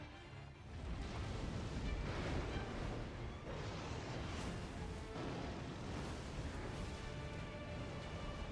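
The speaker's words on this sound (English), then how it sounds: "Fire breath." The boss in Elden Ring Nightreign, Everdark Gladius, Beast of Night, breathes fire: a long, steady roaring rush that swells and holds for several seconds with faint surges inside it.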